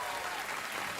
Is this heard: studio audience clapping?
yes